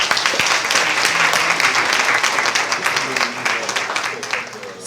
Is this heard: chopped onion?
no